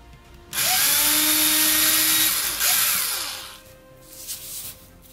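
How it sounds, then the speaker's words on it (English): A power drill bores a hole into a cast resin eye for a Leatherface bust, a loud close whine that holds steady for about three seconds, then winds down to lighter whirring bursts. "I'm going to drill a hole here."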